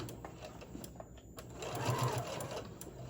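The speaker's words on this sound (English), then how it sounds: "now we're just going to do a top stitch all the way around" Close, steady whir of a sewing machine running a top stitch around a fabric tote bag, starting quietly and swelling to a louder, continuous run.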